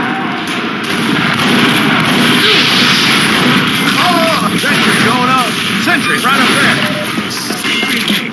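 Incoming fire and explosions in the video game Team Fortress 2 on the Hightower map keep up a dense, loud barrage of booms and pops, with game voices shouting over the din.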